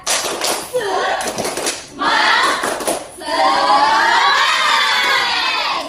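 Classroom children chant and shout together in a 'tepuk semangat' clapping routine, with rhythmic claps at first and then loud, sustained group chanting.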